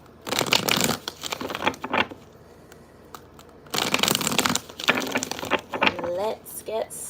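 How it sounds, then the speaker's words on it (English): Two bursts of tarot cards being riffled and shuffled, crisp and close, with a pause between them and a voice speaking briefly near the end. "give me 2 shuffles here"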